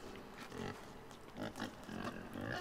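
A pig in the video game Inside snorts and grunts in a string of short, close bursts across a few seconds, with brief pauses between calls.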